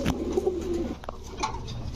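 Pigeons in a fancy-breed pigeon market coo nearby, a soft, low, rolling call heard once or twice over faint background noise.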